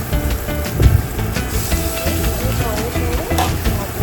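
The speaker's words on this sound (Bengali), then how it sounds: "লো করে দিয়ে একটা একটা করে পাবদা মাছ আমি পাত্রের মধ্যে দিয়ে" Pabda fish sizzle as they are slipped one by one into smoking hot oil over a low flame, a loud, continuous hiss with sharper crackling bursts as each piece goes in.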